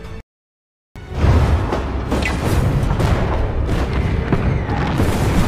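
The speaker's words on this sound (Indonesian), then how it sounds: "Setelah koordinat sudah tepat, artileri pun langsung ditembakkan." Artillery fire in a war film about Soviet soldiers fighting German tanks: a deep, sustained rumbling barrage of booms after a brief silent gap, loud and dense, with bursts and crackles layered throughout.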